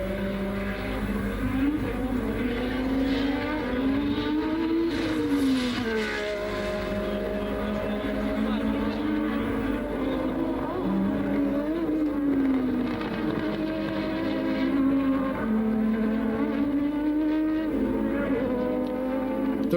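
Formula 1 cars from the 1986 season race around the Jerez circuit in Spain, a sustained loud engine whine rising and falling in pitch as cars pass, continuous throughout with no pauses.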